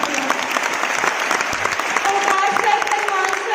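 An audience at a business success-day event claps steadily, a loud, continuous, close wash of applause with a few voices mixed in.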